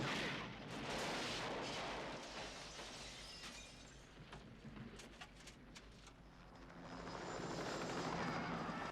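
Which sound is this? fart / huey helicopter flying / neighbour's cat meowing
huey helicopter flying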